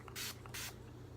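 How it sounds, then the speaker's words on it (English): Two short bursts of Mario Badescu facial water misted onto a beauty blender, each a crisp, close hiss, with quiet room tone between them and afterward. "Okay, now I'm gonna be spraying my beauty blender with the Mario Badescu water."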